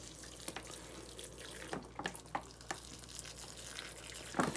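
Water pours from a watering container onto potted basil plants during transplanting, a steady soft splashing and trickling with a few louder splashes, close and fairly quiet.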